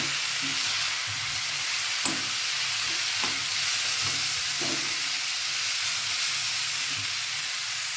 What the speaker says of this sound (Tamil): இப்போ நல்லா வதக்கலாம்.